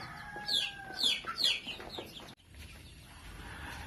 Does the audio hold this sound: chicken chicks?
yes